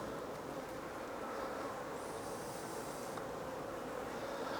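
Honey bees buzz steadily across the combs of a recently shook-swarmed colony, a dense continuous drone heard up close with no voices.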